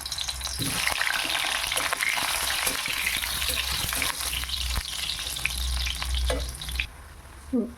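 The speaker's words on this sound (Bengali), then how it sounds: "এবার তেলটা গরম হয়ে গেছে, আমি আলুগুলো ভেজে নেব।" Potatoes and eggs frying in hot oil for an egg curry, giving a steady, loud crackling sizzle throughout, with occasional scraping stirs and a few clinks near the end.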